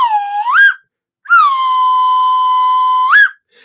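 A loud whistle sound effect on a live comedy quiz show: a short rising blast, a brief pause, then a long steady sustained tone that swoops upward at its end.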